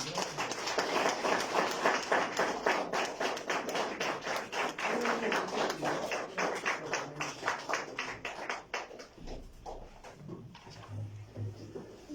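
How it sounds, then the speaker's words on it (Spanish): A church congregation at a Sunday service applauding, a loud rhythmic burst of clapping that fades out after about nine seconds into quieter room sound. "Dale un fuerte aplauso al Señor."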